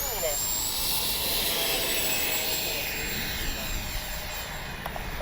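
A Freewing A-10 RC jet's electric ducted fans whine at a steady high pitch as it takes off on a windy day, the sound loud and close with gusty wind noise beneath.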